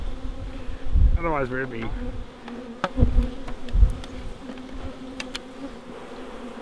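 Bees buzzing steadily around an open hive under inspection, close and continuous, with a few louder passing buzzes, knocks and a short spoken phrase early on.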